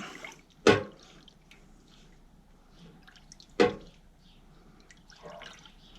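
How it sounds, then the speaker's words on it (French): Hot steel gear part from a mini excavator reduction drive being quenched and shaken in oil: two sharp, loud splashing hisses a few seconds apart, with quieter sloshing and bubbling between them. "Donc on fait bien des mouvements d'huile. On laisse bien dedans, on secoue bien."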